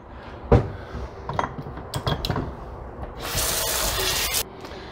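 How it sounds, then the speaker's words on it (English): Meat grinder parts washed in a kitchen sink, with clattering metal knocks against the basin, then a strong burst of running tap water. "I'm going to wash up this and get this ready for the grinder."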